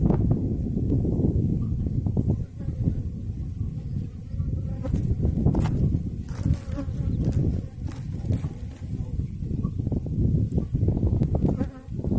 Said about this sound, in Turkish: Öncelikle arılarımızı diğer kovana aktarıyoruz.